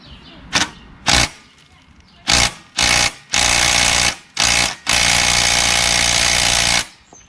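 A powered wrench hammers at a stuck bolt on a lawnmower. It fires in five short, loud bursts, then one long sustained run, with quiet gaps in between.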